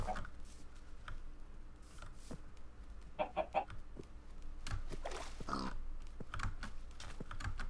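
Chickens clucking in a video game, a few short clucks and squawks scattered over a steady low background hum, with a brief cluster of sharp calls near the middle.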